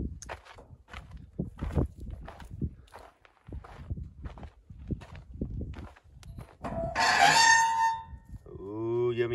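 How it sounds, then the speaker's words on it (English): Footsteps scuff and crunch near the microphone around a chicken coop, with a few soft hen clucks, and then a loud rooster crows close by near the end. "That is a mean rooster right there."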